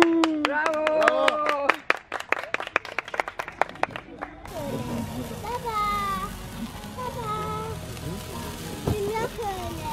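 Family members clap at a surprise birthday celebration, a burst of sharp hand claps in the first few seconds giving way to cheering, chatter and children's voices close by.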